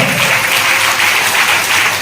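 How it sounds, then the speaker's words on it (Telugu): A church congregation at a Telugu Sunday service claps loudly and continuously in an even, close wash of applause that lasts about two seconds. "చప్పట్లు కొట్టు దేవుని గలపడతాం"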